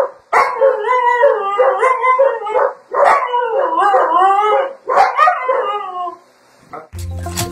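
Dog howling at kennel time, several long, loud, wavering howls close to the microphone with short breaths between them, ending in a brief clatter.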